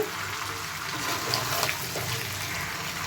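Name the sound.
hot water poured into chicken curry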